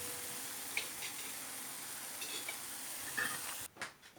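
Onions and vegetables sautéing in a pan for a tuna quiche, a steady soft sizzle with a few faint clinks of utensil on the pan, quiet and close, then abruptly cut off near the end; no talking.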